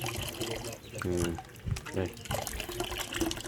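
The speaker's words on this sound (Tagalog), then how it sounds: "Kaya, ginagawa namin, nag-iipon kami ng tubig." Water splashes and streams steadily into a container being filled to store water, with a person talking nearby over the running water.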